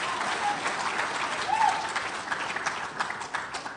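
Audience applause fills a school auditorium at a poetry recitation finals event, a steady wash of clapping that swells slightly midway, heard from within the crowd.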